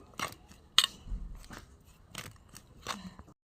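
Hands mix dry spices, salt, chili powder, cumin and turmeric, in a bowl for a bean fritter batter, making a series of soft, close crunchy rubs and gritty scrapes in short irregular bursts.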